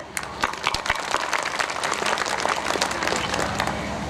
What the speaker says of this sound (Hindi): और मैं चाहूंगी एक बार जोरदार तालियों से